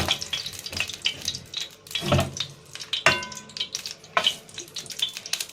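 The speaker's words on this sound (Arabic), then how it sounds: "احنا معانا طاسه مسخنين فيها زيت" Oil heats in a frying pan for chicken shawarma, giving an irregular crackle and sizzle with scattered clatters and splashy bursts, fairly close and steady throughout, with no talking.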